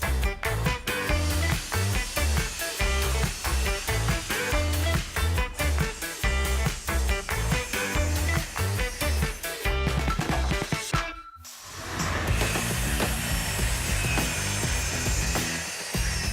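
Plywood pieces are sawn to size for a modular box shelf. Close, rhythmic back-and-forth cutting strokes carry on steadily, break off in a short gap, then give way to a rougher, more even scraping noise.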